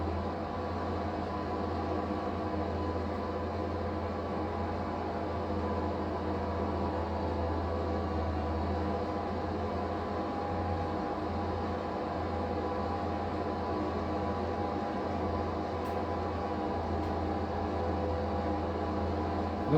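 Farm machinery in a farming video game drives along lines of onions laid in rows and gathers them up, a steady low engine drone with constant mechanical hum running unbroken throughout, fairly loud and without talk.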